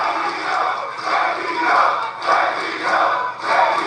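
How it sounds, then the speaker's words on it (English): A wrestling arena crowd roars and chants in rhythmic waves, rising and falling in loud surges about every second or so, with no clear speech on top. "Listen to the crowd."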